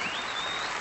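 A studio audience keeps applauding, a brief, dense, steady wash of clapping with no voices over it.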